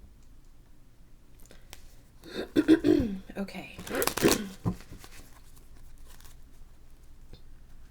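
Cards are shuffled close up, a couple of quick riffling bursts in the middle, with a brief spoken word and quiet stretches around them.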